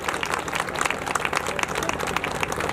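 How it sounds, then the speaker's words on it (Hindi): Audience applauding at a Kanpur birth anniversary celebration for Veerangana Jhalkaribai at Ambedkar Park, a dense, steady patter of many hands clapping throughout, with a faint crowd murmur beneath. "खड़े होकर ये तालियां बजा दे"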